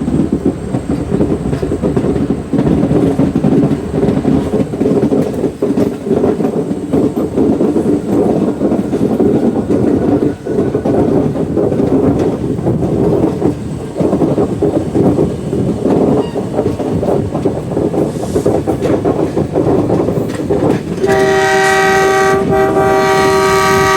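An Indian express train runs past a station crossing on the Silchar to Sealdah route, a loud continuous roar of wheels on rail close by, ending with a sustained horn blast.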